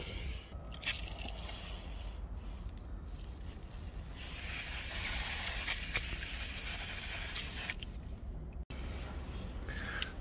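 Steady broadband hiss of compressed air escaping from a leaking cap on an air compressor, continuous and close, with a few sharper bursts midway.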